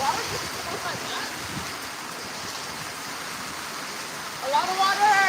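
Steady rain falls during an outdoor yoga session, a continuous broadband hiss of water close around, with a few high chirping tones rising briefly near the end.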